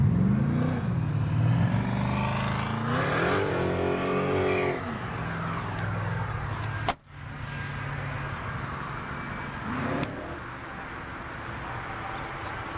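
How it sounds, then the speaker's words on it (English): A 2012 Nissan Navara with a 2.5 litre four-cylinder turbo diesel runs and revs up close, its engine note rising and falling through several surges, with a voice speaking over part of it. "4-cylinder engine, turbo diesel"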